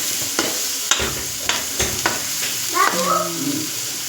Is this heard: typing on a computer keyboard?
no